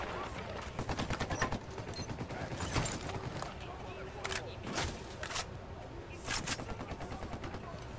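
Gunfire bursts and single shots ring out in the Ghost Recon video game, irregular cracks and rattling volleys of varying loudness scattered across the stretch, with players talking over the action.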